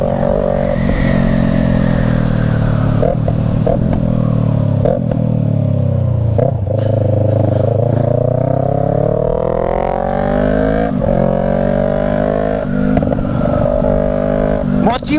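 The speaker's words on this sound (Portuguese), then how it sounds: "Ó, oh, dá umas estouradas, hein? Oh, escape a tala, filhão!" A Yamaha MT-03 two-cylinder motorcycle with an Atalla full 2x1 stainless steel 304 exhaust of 2.5 inches, giving a loud, close engine drone that rises and falls through revs, with occasional crackling pops.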